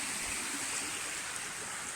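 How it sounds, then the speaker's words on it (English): Continuous rushing of river water channelled past a water wheel at a bushcraft site in Portugal, a steady broadband wash with no talk. "That's where the water comes in. It flows out here,"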